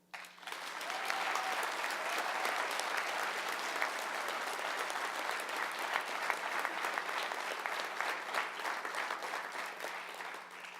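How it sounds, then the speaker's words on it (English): A ceremony audience gives sustained applause for eight young retailer award honorees, a dense even wash of many hands clapping that swells quickly and holds steady for about ten seconds before easing. "Let's all give one more round of applause for tonight's 8 honorees."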